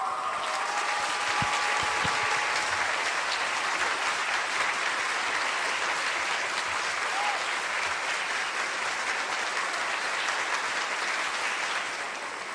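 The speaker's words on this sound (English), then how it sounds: "A round of applause for Dr." A seated audience at a spiritual talk gives sustained applause for Dr. Charles Thomas Cayce, a dense, even wash of clapping lasting about twelve seconds that eases slightly at the end.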